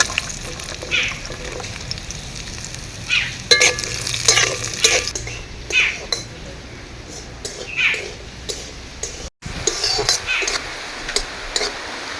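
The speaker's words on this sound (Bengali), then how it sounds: "বিনস ভেজে নেব।" Beans frying in a pan for a vegetable upma, a low continuous sizzle punctuated by irregular stirring and scraping strokes, fairly close, with no talk over it.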